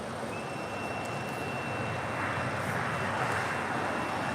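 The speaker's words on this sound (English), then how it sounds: "American Airlines Flight 2656 heading to Philadelphia, and an A321neo is our next departure here on the south side" An American Airlines A321neo jet departs from the south side in a steady, loud roar of engine noise that holds and swells slightly, with a thin high whine running through it.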